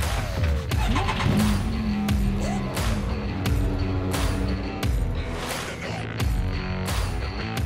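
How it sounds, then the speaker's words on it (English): A Can-Am side-by-side driving on trails in Coconino National Forest near Sedona, with a close engine drone, shifting revs and repeated knocks and rattles from rough terrain, no talk. "So we rented a Can-Am side-by-side and ventured into the Coconino National Forest."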